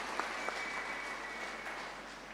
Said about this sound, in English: Can we clap hands for the capable staff of Letaba?